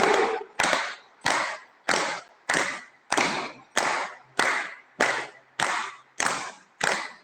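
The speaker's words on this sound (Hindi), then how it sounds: "ताली बजाकर 15 बार बजाएंगे ताली।" A group claps hands together in unison at a yoga session: loud, evenly spaced, broad claps in a steady rhythm, about a dozen in a row, with no talking between them.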